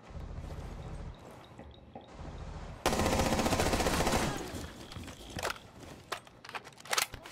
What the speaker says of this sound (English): I just hear a gun to the right.